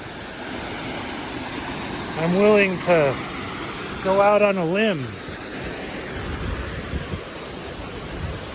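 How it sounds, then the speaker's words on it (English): Steady broadband rush of waterfalls along a Sierra Nevada stretch of the Pacific Crest Trail, a constant roar filling the whole clip while someone speaks over it in two short bursts. "You know how much I love these waterfalls?"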